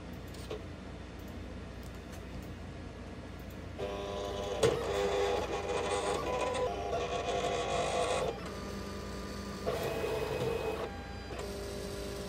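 A Silhouette Cameo 4 cutting machine scans a sheet for registration marks with a faint whirring carriage motor that starts and stops in several bursts, quiet and close, with no voices.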